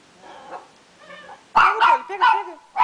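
A dog barks several times in quick succession close by, loud sharp yips with whimpering tones, after a quieter stretch of background sound.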